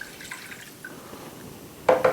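Rice wine vinegar is poured for a sweet chili sauce, faint drips at first, then a sudden close liquid splash and gurgle at the very end, with no talking.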